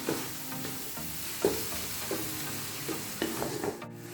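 Chopped spinach sizzles softly in a pan while a spoon stirs and scrapes it in irregular strokes, sautéed for an aloo gobi dish; close, fairly quiet, with no talking.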